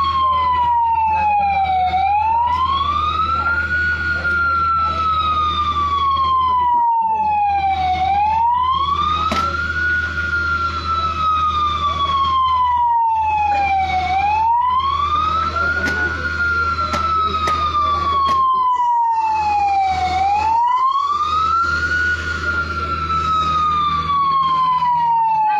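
A fire truck siren wails at a house fire in a Nueva Ecija village, loud and close, rising and falling in long repeated sweeps over an idling engine rumble.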